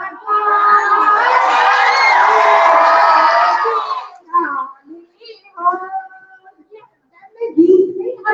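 Students and audience at an intermediate college event break into loud cheering and shouting for a few seconds, followed by scattered yells and voices.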